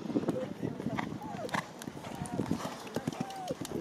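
A horse ridden in an arena at a dressage event in Gunzenhausen moves into a canter, its hoofbeats thudding in steady rhythm at moderate distance while a voice calls riding instructions over them.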